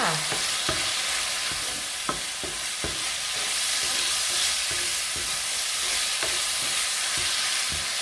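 Shrimp poured into a hot pan for Thai salt-and-chili stir-fry, with a steady loud sizzle of frying throughout and occasional sharp scraping clicks of a utensil stirring.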